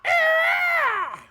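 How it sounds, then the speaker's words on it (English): A siren creature in the video game Witcher 3 lets out a stock pterodactyl-style screech, a single loud, shrill, wavering cry lasting about a second before trailing off. "Oh, they got my favorite stock creature noise. The fucking He-Man pterodactyl screech."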